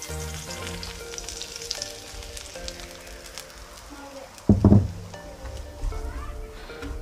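Semolina roasting in a pan over a low flame for homemade rasgulla, a soft, dry crackle with a rhythmic stirring scrape. A short, loud clatter of the pan comes midway, and a faint hum sits in the background.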